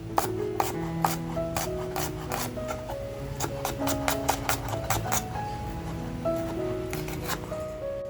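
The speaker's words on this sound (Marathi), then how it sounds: "कांदा आपल्याला ना असा पातळसर कापून घ्यायचा आहे" A knife cuts an onion into thin slices on a board, giving a rapid run of crisp chopping knocks, close and clear, bunched in quick bursts over a low musical background.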